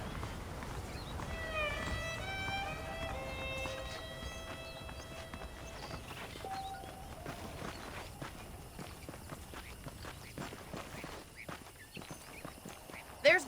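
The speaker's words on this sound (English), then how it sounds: "The horses are saddled up over here." Saddled horses clip-clop at a walk in the western video game Red Dead Redemption, with steady hoof steps continuing under a voice and game music.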